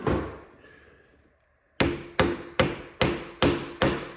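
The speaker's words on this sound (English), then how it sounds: "you take a hammer" Six sharp hammer taps in a steady, even rhythm, loud and close, following a moment of quiet with faint background noise.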